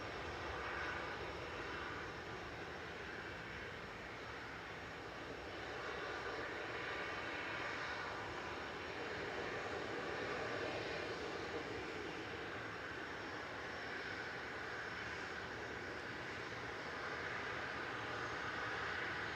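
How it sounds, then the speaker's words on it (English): A passenger jet taxis at Manchester Airport, giving a steady, distant engine roar and hiss that stays even and unbroken for the whole stretch. "your flight is taxiing out"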